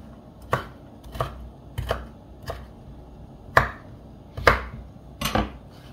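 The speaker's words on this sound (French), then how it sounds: "On va essayer de les couper un peu grossièrement, hein, comme ça." A knife roughly chops green beans on a cutting board, about eight distinct sharp knocks at an uneven pace, close and clear with quiet between the strokes.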